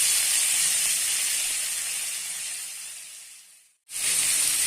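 Boiled vermicelli tossed into a hot pan of oil with fried curry leaves, a loud, steady sizzle and hiss that fades slightly, cuts out briefly near the end, then bursts back at full strength.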